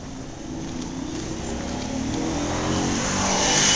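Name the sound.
car speeding past at high speed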